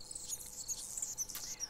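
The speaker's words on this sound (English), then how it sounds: "And we've got crickets." Crickets chirp in the sunflower plains of the Life in the Woods: Renaissance video game, a soft, steady run of high, rapid chirps heard alone and fairly faint.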